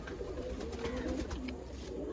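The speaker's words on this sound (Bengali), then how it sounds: "এই পায়রাটা মাদি পায়রা, এটা কালো পট্টি নিয়ে আছে, কালো চোঁচ নিয়ে" A female pigeon with a black bar and black beak coos softly in a few low, throaty phrases, close and alone with no talking.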